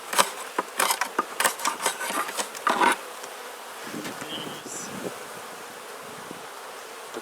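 Honey bees buzz around an open Langstroth hive during an inspection, a steady insect drone with a burst of clicks and knocks from frames and tools in the first few seconds, then a softer continuous hum.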